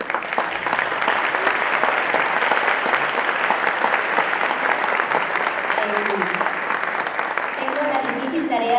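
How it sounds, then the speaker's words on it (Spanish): Sustained applause from an audience at a keynote lecture on ethnobiology in Mexico honoring Dr. Alejandro Casas, steady and full throughout, easing slightly near the end as a voice begins to emerge. "a quien pido un aplauso otra vez"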